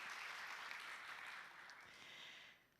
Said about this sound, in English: an applause for our great panelists that are moderating today